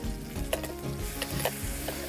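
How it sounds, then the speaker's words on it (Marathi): Coarsely ground masala paste fries in a hot pan, giving a dense, even sizzle. A few brief clatters from stirring cut through the hiss. No voices are heard. "आता हे वाटलेले घालपाचे."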